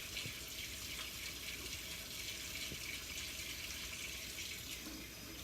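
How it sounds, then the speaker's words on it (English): Water runs steadily through stained fabric being washed with Sunlight soap, a continuous close splashing rush like a tap pouring onto cloth, with no talking. "So you want to let the water filter through there."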